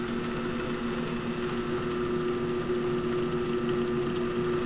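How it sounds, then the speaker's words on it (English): A restored drill press motor runs nearby, giving a steady, smooth, fairly quiet hum with a constant tone that never changes. "I'm going to cut it on for you so you can listen to the motors."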